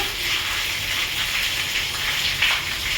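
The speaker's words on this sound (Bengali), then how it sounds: "বাইরে কিন্তু ভারী পরিমাণে বৃষ্টি পড়ছে।" Heavy rain falls outside, a steady broadband hiss with a dense patter of drops, constant in level throughout with no voices over it.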